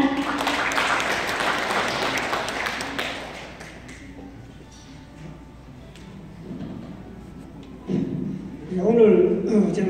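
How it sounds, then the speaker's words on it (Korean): An audience applauds for a few seconds at an Andong calligraphy exhibition ceremony in an arts centre, the clapping fading into a quiet room before a speaker begins talking. "박수로 모시겠습니다."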